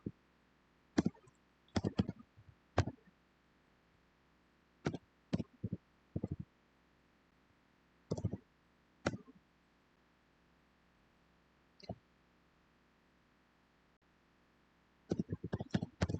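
Sparse clusters of light clicks and taps from typing on a keyboard in a quiet room, coming in short bursts separated by pauses, faint and close.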